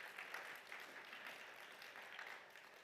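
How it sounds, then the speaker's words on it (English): An audience at an urban cultural planning conference in Riga gives a round of applause: steady, dense clapping heard at a distance, fairly faint, with no talking over it. "round of applause"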